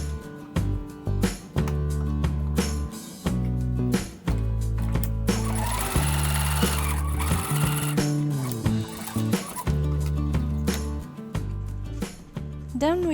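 A sewing machine stitches the folded seam of a fabric face mask in short loud bursts of rapid mechanical whirring, broken by pauses and fabric handling.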